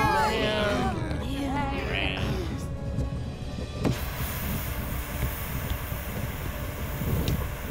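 Voices briefly at the start, then a continuous low rumble and rattling clatter of a train rolling along the tracks.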